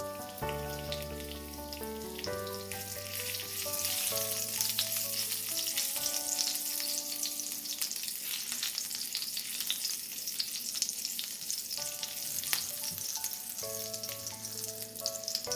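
Cumin seeds, curry leaves and a green chili fry in hot oil in a pan, a steady, fairly loud crackling sizzle under soft background music.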